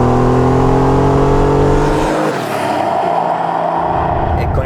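A Porsche 911 Turbo 3.3 (930) engine revs hard under turbo boost, a loud, close climbing roar that drops sharply at a gear change, then builds again with a rough, rising growl.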